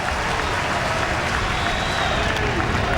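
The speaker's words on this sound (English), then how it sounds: "And now the fans at Wrigley, who've not had a whole lot to cheer about with the Cubbies, they join the Glavine family on their feet here" Baseball fans at Wrigley Field in Chicago, at a Mets–Cubs game, cheer and applaud in a steady, dense roar of clapping and crowd noise that fills the whole stretch, loud and continuous, with a broadcast commentator's voice faintly under it.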